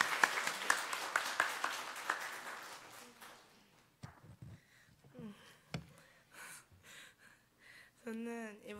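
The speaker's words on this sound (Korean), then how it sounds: "박수로 맞이해 주시기 바랍니다." A short burst of audience clapping welcomes a student speaker at a church youth retreat, loud at first and fading within about three seconds, followed by quiet room noise, shuffling and a few soft voices.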